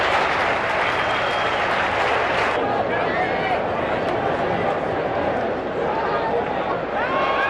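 Thousands of fans fill a stadium at a Blue Jays versus Orioles baseball game in 1993, a dense, constant roar of crowd noise with clapping and whistles, and someone speaks over it.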